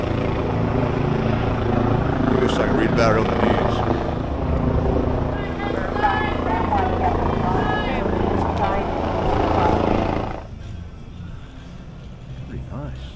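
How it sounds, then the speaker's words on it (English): A helicopter drones in the background with a low throbbing rotor sound while someone talks over it; the engine noise drops off near the end. "I'm still wondering what's going on with that chopper over there."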